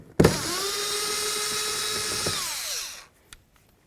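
A power drill driver whirs steadily for close to three seconds, backing a 10 mm bolt out of a Ford Edge front door panel, then winds down and stops, leaving near silence with one faint tap.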